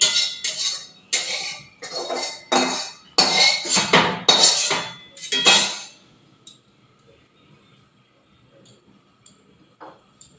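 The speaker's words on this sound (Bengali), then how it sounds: "কড়া বসিয়ে দিয়েছি, কড়ার মধ্যে আমি তেল দিয়ে দেবো।" A kadai is set on a stove and mustard oil goes in, giving a quick run of metallic clanks and clinks for several seconds, then near silence broken by a few faint ticks.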